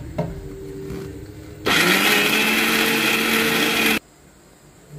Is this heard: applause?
no